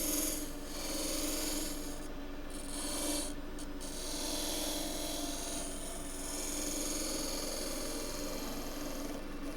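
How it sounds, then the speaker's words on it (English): A skew chisel's bevel side rounding over a wooden enclosed vessel spinning on a lathe, a continuous steady rasping scrape with a low motor hum beneath, even and unbroken throughout. "I'm going to do it with the side of the bevel side on the skew chisel. I'm just going to round it over."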